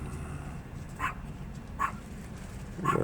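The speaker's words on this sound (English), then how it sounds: "There's a dog over there." A dog barks at a distance outside a truck parked at a feed store, three short single barks spaced about a second apart over a steady low engine rumble.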